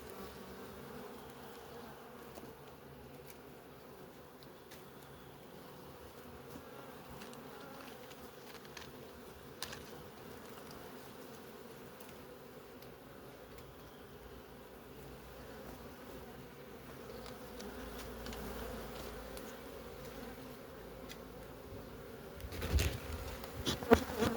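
Honeybees hum steadily around opened Dadant-Blatt and Farrar hives during a May inspection, a continuous close drone with a few brief knocks and a louder clatter near the end.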